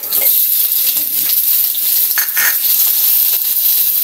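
Shrimp frying in a hot pan for a mixed vegetable sauté, giving a steady, loud, continuous sizzle with crackling spatter throughout, close up and without any talking.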